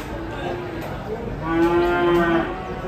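Rare giant cattle on a farm give a single drawn-out moo, rising and swelling in the middle before fading, over a busy open-air background.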